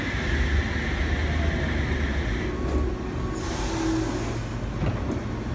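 Rail noise rumbles at a station, with a brief metallic squeal and hiss partway through as the train sits and shifts.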